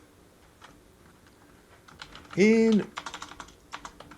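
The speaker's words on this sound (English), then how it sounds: "let me just type this out as a reply." Fingers type on a computer keyboard in a string of quiet, close, uneven clicks, and a short spoken word cuts in partway through.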